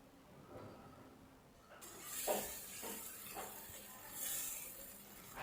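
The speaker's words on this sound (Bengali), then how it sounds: "চিকেনটা এর সঙ্গে খুব ভালোভাবে মিশিয়ে নেব, খানিকক্ষণ ধরে নাড়াচাড়া করব" Chicken pieces are stirred into a thick chana dal gravy in a pan over medium heat, with soft scraping strokes and a gentle sizzle, close and quiet.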